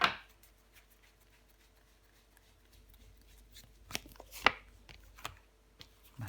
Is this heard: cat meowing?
no